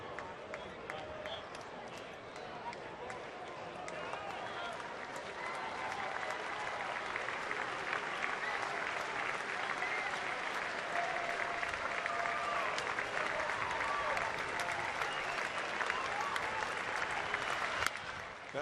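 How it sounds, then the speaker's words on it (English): Yankee fans in a baseball stadium crowd clap together in rhythm, a dense, loud, sustained wall of claps and crowd noise that swells slightly toward the end, with a commentator talking over it. "the rhythmic clapping begins for the Yankee fans"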